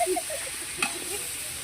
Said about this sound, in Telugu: ఇప్పుడైతే ఉల్లిపాయలు అయితే ఫ్రై అయిపోతున్నాయి కదండి